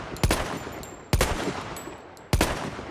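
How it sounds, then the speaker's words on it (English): Three loud rifle shots ring out in Battlefield 1, fired at a wall about once every second, each with a sharp crack and a booming low tail that fades into background game ambience, with no voices. "what I'm going to do is I'm going to shoot this wall over here."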